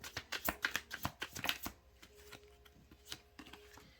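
A deck of cards is shuffled nearby, a quick burst of crisp riffling clicks in a fast flutter, then a few softer scattered taps as the cards settle, with no voices.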